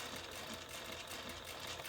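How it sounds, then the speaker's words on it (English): A sewing machine runs steadily, stitching the seam allowance of a handbag bottom band, giving a quiet, even, continuous mechanical whir with no pauses. "we are stitching through the seam allowance"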